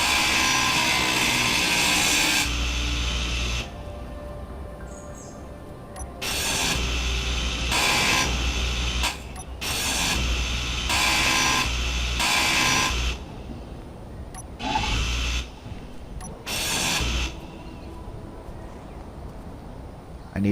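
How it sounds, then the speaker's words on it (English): A power grinder in the space-building game Space Engineers cuts away a ship seat, giving a loud, continuous metallic buzzing whine that starts and stops in bursts, with louder block-like stretches and brief gaps. "I need to grind the seat out because we need to get to the thruster that's behind it"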